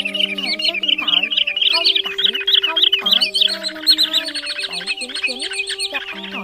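A recorded lure call of the white-bellied sandpiper, rapid repeated piping chirps layered over steady tonal whistles, loud and close, with no talking.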